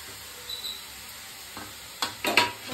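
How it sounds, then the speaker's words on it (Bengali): Carrots frying in a hot pan give a soft sizzle, broken by a few sharp scraping stirs near the end, close up, with no talking. "এবার আমি ভালো করে ফ্রাই করবো।"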